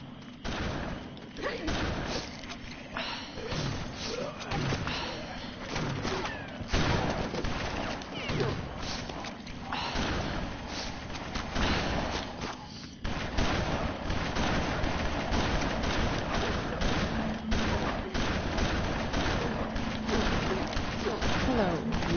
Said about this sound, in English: You can still fire your guns as well.